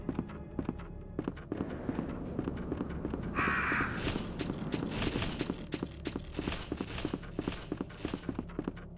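Crows caw harshly in Resident Evil 2, with flapping and repeated sharp hits in a dense, busy stretch of game sound and no voices.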